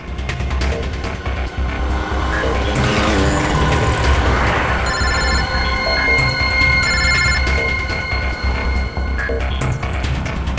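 Telephone ringing tone from a call being placed, repeated electronic rings at steady intervals heard over a continuous street and vehicle background in a narrow lane.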